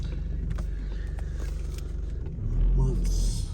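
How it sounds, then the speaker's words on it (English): Road traffic rumbles nearby, with a steady low car engine drone and a vehicle swelling louder near the end, while people speak over it. "There's just a lot of traffic."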